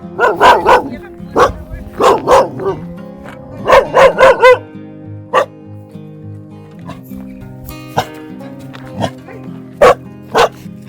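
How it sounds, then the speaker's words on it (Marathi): A dog wearing a spiked protective collar barks on a mountain trekking trail near Bhimashankar, giving clusters of sharp, loud barks close by, separated by short pauses, with quieter yips and whimpers in between. "नुसता भुंकतोय, काय करत तर नाही"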